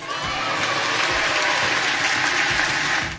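Applause from a packed chamber during a presidential address to the U.S. Congress, a loud sustained wall of clapping that swells and holds before tapering at the end.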